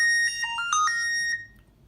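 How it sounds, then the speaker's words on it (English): A smartphone rings a melodic electronic ringtone, set off remotely by the Find Phone feature on a Fitbit Inspire 3 smartwatch. The bright, clear tones play alone for about a second and a half, then cut off. "you can see my phone is now going off."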